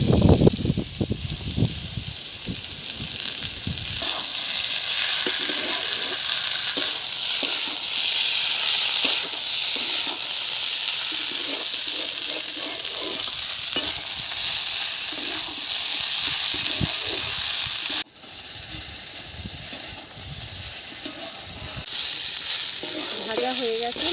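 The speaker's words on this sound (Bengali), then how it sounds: "ডুমুরটা একটু ভেজে নিয়েছি আলুর সাথে, এখন আমি বাটা মশলাটা দিয়ে দেবো।" A steady, moderate sizzle of ground spice paste frying in a pan with fried figs and potatoes for a vegetarian dish, continuous, with a brief dip in loudness near the end.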